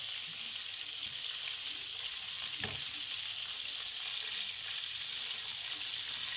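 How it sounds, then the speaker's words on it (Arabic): Fish fries in hot oil until golden, a constant bright sizzling hiss close by, with one brief louder crackle partway through and no talking. "انا هحمر بقى السمك بتاعنا كله"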